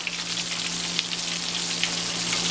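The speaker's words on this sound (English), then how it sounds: "look at that sizzle, y'all" Pork chops sizzle in a hot frying pan, a bright, dense crackle of spattering fat with steady intensity and no voices over it.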